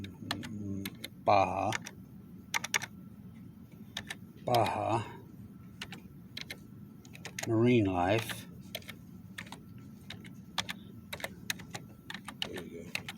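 Someone types on a computer keyboard with one hand while holding a camera, light scattered clicks running throughout, with a person talking in short bursts over the tapping.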